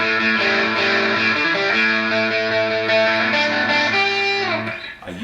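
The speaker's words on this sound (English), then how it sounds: "So it's a very quick echo. It's kind of more reverby than echoey. It's very steel and metallic" An electric guitar played through a distortion and a Boss DD-3 digital delay pedal set for very quick, metallic, reverb-like echoes rings out in sustained chords that shift pitch several times before fading near the end, with no talking.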